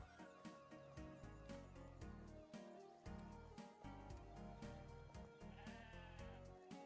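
Sheep bleating repeatedly in the video game Discounty, loud and close, over steady rhythmic background music with percussive beats.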